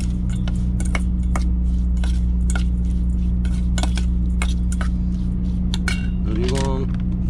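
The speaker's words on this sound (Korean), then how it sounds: "다시 잘 섞어줍니다" Cold Korean cucumber soup, oi-naengguk, is mixed in a bowl with repeated close clinks and scrapes of a utensil, over a constant low engine hum inside a diesel truck.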